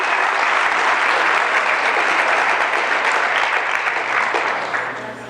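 Church congregation applauding together, a dense, loud wash of clapping that holds steady and then fades slightly toward the end.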